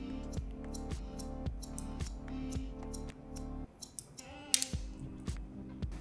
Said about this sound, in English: just looking for those blunt lines, and then point cutting to release them